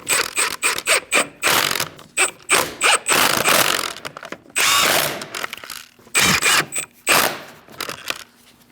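Pneumatic or power impact tool tightening the rear wheel lug nuts on a 2000-2006 Mini Cooper, a series of sharp, loud buzzing bursts separated by short pauses, close up with no talk.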